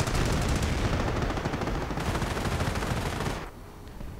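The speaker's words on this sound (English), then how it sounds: "And once more artillery come flying." Artillery fire and machine gun in a World War II strategy video game: a dense, continuous rattle of gunfire and blasts for over three seconds, then dropping to a quieter rumble.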